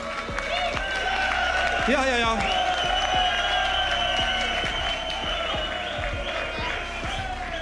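Audience applause and cheering rise at a live song contest final, a steady sustained wash of clapping with a few whoops, while voices talk over it.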